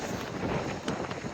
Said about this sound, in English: gusts that are, you know, 40, 50 miles an hour